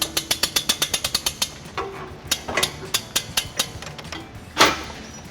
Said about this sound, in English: We're now ready to raise the hitch into position. I will be using this U-Haul exclusive hitch jack.